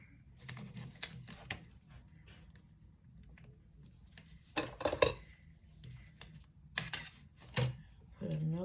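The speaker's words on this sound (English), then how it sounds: "So I'm going to put some tape here." Tape pulled and pressed onto a folded cardstock envelope, with sharp crackling tears and rustles in separate bursts against quiet gaps, close and moderately quiet, and soft talking in places.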